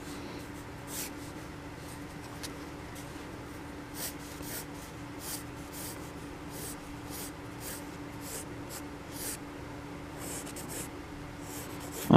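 A pencil drawing a human figure on paper, close and quiet, with repeated short scratchy strokes in irregular bursts over a soft steady room hum.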